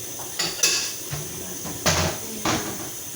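Dishes and cutlery are handled in a home kitchen, with several sharp clattering clinks and knocks spaced out over a few seconds, close and fairly loud, with no talking.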